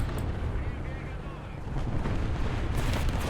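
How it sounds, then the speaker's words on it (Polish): Artillery fire in War Thunder, a dense run of low rumbling booms and blasts filling the clip continuously, with the heaviest burst near the end. "Dobra, artyleria tam nie rozwaliła."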